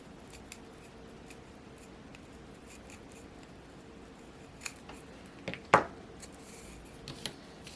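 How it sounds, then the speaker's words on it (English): Quiet room with a few scattered soft snips of scissors cutting ribbon for a bookmark, one sharper cut standing out midway, then faint handling noises. "take those scissors so we can push it through again"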